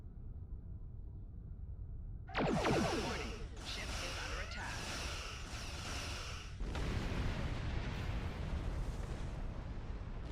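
Starship weapons fire and a platform exploding in Star Trek Online: a sudden burst of sharp, zapping energy shots lasts several seconds, then gives way to a heavy, sustained rumbling explosion that fades slowly.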